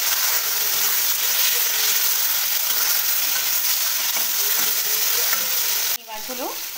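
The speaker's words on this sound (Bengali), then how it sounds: "হালকা করে ভেজে নিতে হবে এপিট ওপিট করে চিংড়িগুলো।" Prawns fry lightly in mustard oil in a pan, giving a steady, close sizzle with stirring scrapes throughout, then a brief clatter and a softer sizzle near the end.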